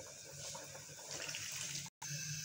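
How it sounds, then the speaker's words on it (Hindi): Rice poured into a pot of water already at a rolling boil for a home-cooked chicken pulao, a steady wet rush and bubbling hiss that runs continuously at close range, broken by a momentary dropout near the end. "अब मैं इसके अंदर चावल ऐड कर रही हूँ।"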